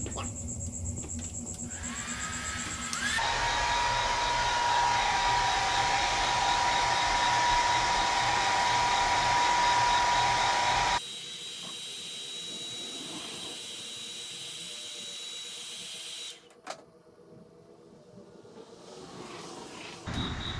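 Heat gun blowing hot air to soften the adhesive behind a Harley-Davidson touring reflector, a steady loud hiss with a whining tone that runs for about eight seconds, then drops to a quieter hiss and low background noise.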